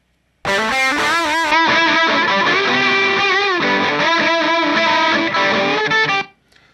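Distorted vintage-style lead guitar through a Celestion Vintage 30 cabinet impulse, playing a busy riff of quick bent and sustained notes, loud and continuous for about six seconds before stopping abruptly.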